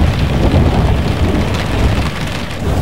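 Steady, loud rain pours across the whole stretch, with a deep thunder rumble rolling underneath and no voices.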